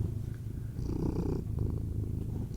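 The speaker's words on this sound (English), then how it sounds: "Nice purr." A house cat purring close to the microphone, a steady low rumbling drone that continues without a break for a couple of seconds.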